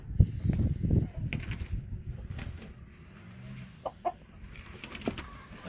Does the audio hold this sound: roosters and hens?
yes